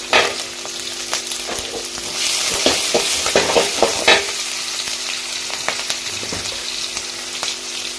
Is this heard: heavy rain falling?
no